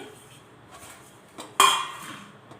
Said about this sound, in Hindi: प्लेट को हटाते हैं।